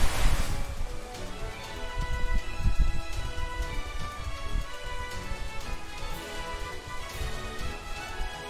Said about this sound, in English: When the water splashes so loud on the ear.